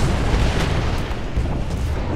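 Tank ammunition cooks off inside a vehicle in War Thunder, a loud, continuous low rumbling blast that fills the whole moment without any talk.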